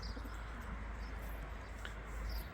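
Low, soft cooing of racing pigeons, steady and close, over a constant hum of background noise, with no voices.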